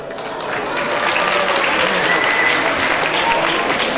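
Steady applause from an audience at a prize distribution ceremony, many hands clapping together in a dense, even wash that holds for several seconds without pause.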